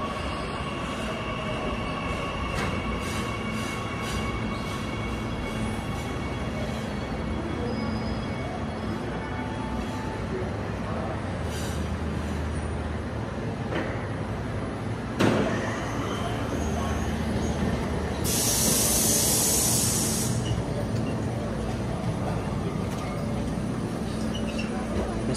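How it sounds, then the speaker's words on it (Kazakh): A Korean subway metro train runs with a steady loud rumble of wheels on rails, occasional clanks and a brief high squeal near the end, heard from inside a carriage with faint talk. "Азыр сиздерге метронун ишин көрсөтөм."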